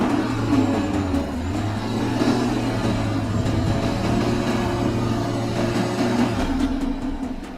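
A BMW X6 SUV driving in Sport Plus mode gives a loud, steady engine drone with a sustained low hum that holds for several seconds and then drops slightly near the end, with no speech.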